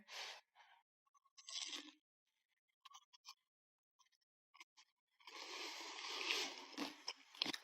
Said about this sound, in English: The crunch of this and the combination dipping it into the soup.